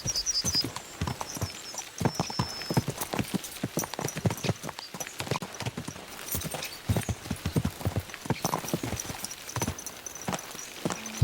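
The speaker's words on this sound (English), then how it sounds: "Let's really spur these horses on, eh?" Horses' hooves clip-clop busily in Kingdom Come Deliverance 2, a dense, uneven patter of close hoofbeats running throughout with faint high chirps in the background.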